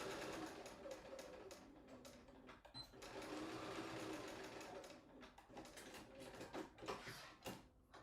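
A sewing machine stitches in quick, continuous runs with brief pauses and restarts, close and fairly quiet, with no talk over it.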